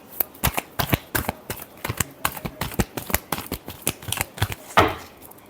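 Tarot cards being shuffled during a love reading, a rapid run of crisp riffling snaps and slaps, close and loud, ending in a longer burst of fluttering cards with no one talking.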